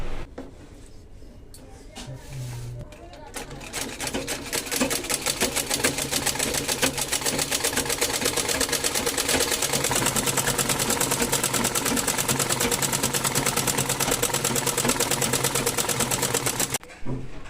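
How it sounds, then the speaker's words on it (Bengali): Sewing machine stitching nighties and shortening their shoulders, running in a steady rapid mechanical rhythm through most of the stretch, close and fairly loud, with a brief pause near the start. "নাইটিগুলো সেলাই করব, একটু কাঁধগুলো ছোট করব"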